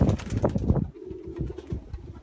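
Young racing pigeons coo in a loft in the Netherlands, several soft throaty coos close by, louder at first and then quieter, with a light shuffle of movement.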